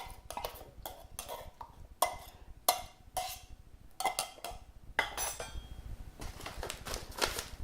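A jar of tomato sauce emptied into a dish, heard as a series of close clinks, taps and scrapes of a utensil against glass, irregular and fairly quiet.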